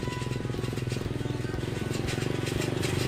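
Motorbikes loaded with freshly harvested soursop fruit putter along with a steady, buzzing, pulsing engine drone at moderate distance, continuous throughout.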